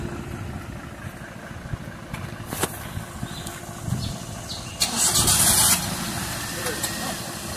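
A vehicle engine starts and revs on a busy road near a bridge on the route to Goa, rising in a loud burst partway through amid traffic noise and people talking.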